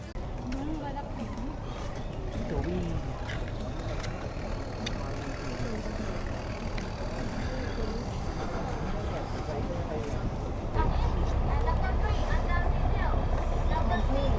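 A three-motor speedboat on an island-hopping trip from Ao Nang rumbles steadily up close over wind buffeting, rising slightly louder toward the end while people talk nearby.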